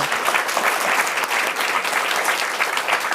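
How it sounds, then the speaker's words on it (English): A library event audience gives Dr. Rogers a big round of applause: close, loud and continuous clapping filling the whole stretch without pause. "let's give Dr. Rogers a really big applause."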